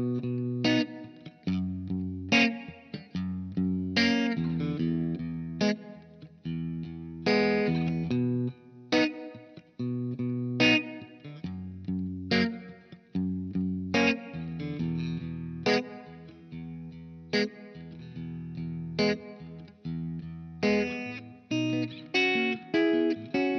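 Distorted electric guitar plays the chorus of a song, strummed chords in a steady, rhythmic pattern with sharp attacks and ringing sustain, solo with no voices.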